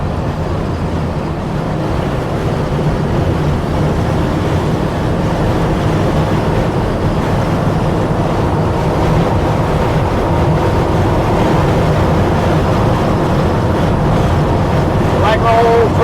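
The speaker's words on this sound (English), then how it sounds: "Like all old trucks, it's got a little wind noise in here." Steady, loud wind and road roar fills the cab of a 1956 Chevrolet 3100 Cameo pickup cruising at about 65 mph on the I-5 freeway, a constant broadband rush with low engine rumble beneath.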